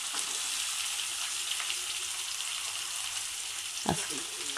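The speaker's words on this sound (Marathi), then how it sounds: "आता कांदा टाकून घेते।" Onion drops into hot oil already holding ginger and garlic, producing a steady, bright hiss of frying with a single soft clunk near the end.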